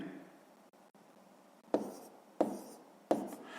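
Pen or pencil strokes while writing numbers for a long division problem: faint soft scratching, then three sharp distinct taps spaced about evenly near the end, in a quiet room.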